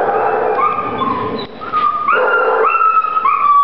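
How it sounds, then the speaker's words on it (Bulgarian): Several dogs are crowded together in a shelter room, whimpering, yipping and howling in high, wavering cries that overlap and rise again after a brief dip. The sound is close and loud, and no one speaks. "часа 5 кучета стоят в това помещение"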